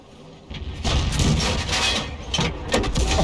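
An artillery shell lands as a near miss in an online tank battle game, a loud close boom and rumbling crash with debris-like crackle that sustains for a few seconds.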